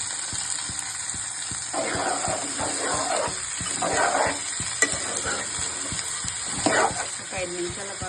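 Chopped beans frying in a pan with onions, a steady sizzle and hiss punctuated by regular spoon taps and stirring bursts, close and fairly quiet, with a voice talking at moments.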